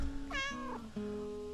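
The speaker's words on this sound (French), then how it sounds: "Oh, il y a un chat." A cat meows in the cozy gardening simulator game Garden Life, a single drawn-out rising and falling call followed by a softer trailing note, quiet and alone with no voices.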